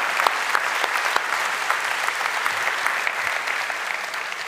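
Steady applause from an audience, dense and continuous throughout with no talking over it.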